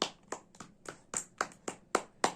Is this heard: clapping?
yes